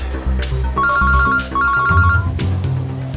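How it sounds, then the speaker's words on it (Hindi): A mobile phone rings for an incoming call, a bright repeating electronic melody playing loudly and close over a low background tone. "दया फोन कर रहा है।"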